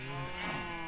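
A single short sheep bleat from the video game Minecraft, clear and close, lasting under a second with nothing else around it.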